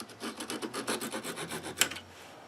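A hand saw cuts through a turned wooden coffee scoop with a rapid, even rasp of back-and-forth strokes, close and alone, ending in a sharp snap as the cut finishes.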